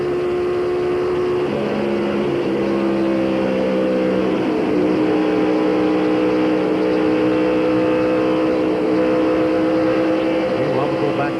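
A 1996 NASCAR Winston Cup race car, Kyle Petty's, laps Atlanta Motor Speedway, its engine a loud, continuous high-pitched drone with shifting pitch as other cars pass, under a commentator's voice.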